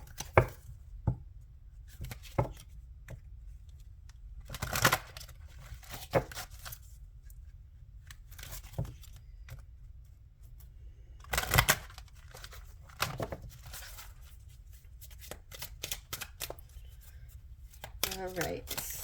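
Oracle cards being shuffled by hand in short, scattered bursts of papery riffling and tapping, fairly close but quiet, alternating with stretches of near silence.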